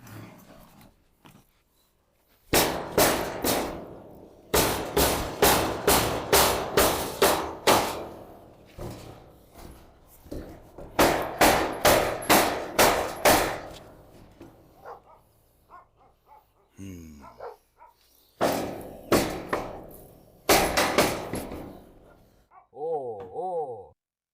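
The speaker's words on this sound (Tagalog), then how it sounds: "Ang malaki nating martilyo." A big hammer pounding while a cat house is built, delivered in rapid loud bursts of repeated strikes separated by short pauses, with a person speaking between the bursts.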